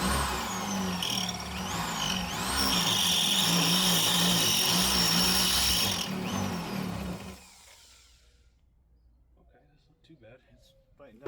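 A power drill bit grinds into a metal Ford 9 inch axle housing during a Jeep YJ Wrangler axle swap, a loud, steady whining drone for several seconds that then stops, leaving faint background noise.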